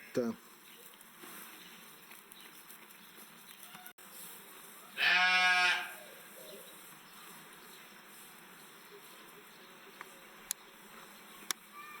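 A single goat bleats once, a short wavering cry in a quiet outdoor setting in the park of the Château de Rambouillet, Yvelines, France, with a few faint clicks and soft background noise.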